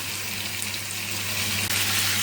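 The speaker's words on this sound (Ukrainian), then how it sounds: "І часник додала, і десь так води додаю" Water poured into a pan of stewing vegetables with carrot and garlic, a steady close hiss and splash of liquid hitting the hot pan, continuous and alone.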